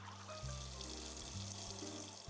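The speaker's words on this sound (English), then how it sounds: "Wash the lotus seeds by swirling gently in the warm water for 30 seconds" Lotus seeds swirled by hand in a bowl of warm water give a faint, gentle sloshing and trickling under a low steady hum.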